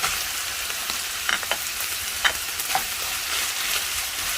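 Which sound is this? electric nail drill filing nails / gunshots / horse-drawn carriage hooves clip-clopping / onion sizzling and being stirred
onion sizzling and being stirred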